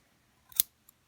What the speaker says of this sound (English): It's good to have sharp scissors, but these ones are maybe a little bit too big for this little tiny pom-pom maker.